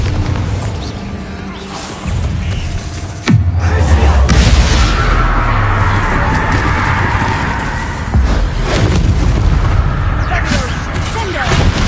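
Explosive blasts from the Bombarda spell in the Hogwarts Legacy video game, with heavy booming impacts landing around 3 and 8 seconds over a dense, loud battle mix, while a player's voice talks throughout.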